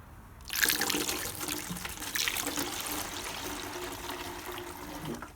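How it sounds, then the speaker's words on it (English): Distilled water pouring from a tap into a plastic cake-icing container for mixing engine coolant, a sudden splashing gush that settles into a steady trickling flow as the container fills. "Fill it up with distilled water."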